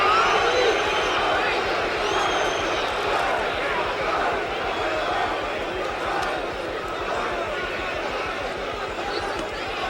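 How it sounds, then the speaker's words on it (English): Fans at the Ali versus Norton heavyweight boxing fight cheer and roar, a broad, steady arena crowd din with scattered shouts and whoops that holds throughout. "fans are cheering for Ali."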